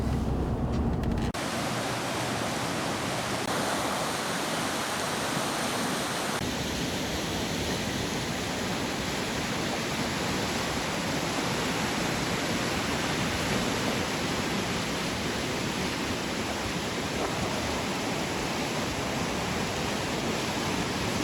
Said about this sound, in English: Here we are on the Vedder River, just a little bit further upriver from Chilliwack